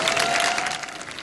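Audience at a Bollywood and multicultural dance festival in Greece applauding, a dense patter of clapping, loud at first and easing slightly toward the end.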